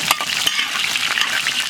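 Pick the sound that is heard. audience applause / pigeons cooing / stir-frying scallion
stir-frying scallion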